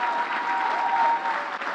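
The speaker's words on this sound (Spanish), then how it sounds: "Dale un fuerte aplauso al Rey." A church congregation applauding during a sermon, a dense, steady wash of many hands clapping at once, loud and sustained with no distinct voices standing out.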